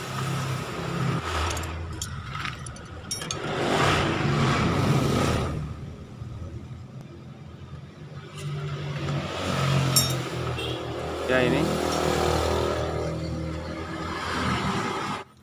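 A Yamaha Vega ZR motorcycle engine with oil run dry runs continuously with a knocking, clattering mechanical rattle, close and steady with some revving swells, heard alone without talk.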